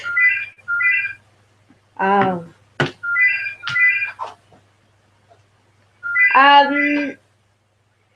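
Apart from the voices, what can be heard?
telephone ringing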